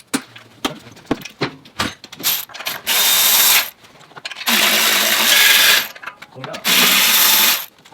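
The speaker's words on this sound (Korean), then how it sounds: "EGR 밸브 교체하기 위해서 지금 제가 특수공구 설치하기 위해서 지금 탭 작업을 하고 있습니다" Thread tapping on a 2015 Hyundai Santa Fe DM engine to fit a special tool for EGR valve replacement, with clicks and ratcheting followed by loud bursts of a whirring power tool, close by, while someone talks.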